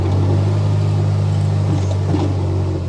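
A 2021 Kubota RTVX1140 utility vehicle backing up, a steady close diesel engine drone with a constant low hum and slight mechanical clatter.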